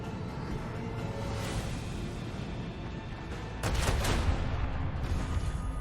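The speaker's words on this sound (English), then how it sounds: "And torpedoes. Unleash our vengeful salvo!" A torpedo salvo launched from a warship in the Warhammer 40,000 Rogue Trader game: a steady rumbling roar that swells into a louder, dense burst of launches midway and keeps rumbling.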